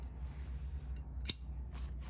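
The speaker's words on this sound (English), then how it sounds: "Grab some fabric scissors," Fabric scissors make a single crisp snip through excess yarn beside a knitting machine, one sharp close click against a quiet, faintly humming room.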